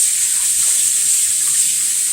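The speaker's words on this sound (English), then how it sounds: "Wash our hands." Tap water runs steadily into a kitchen sink as hands are washed, a continuous hissing splash at close range with no talking.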